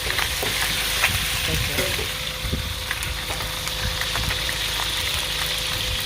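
Chicken frying in a paella pan at an outdoor market stall, a steady loud sizzle with scattered small pops and crackles throughout.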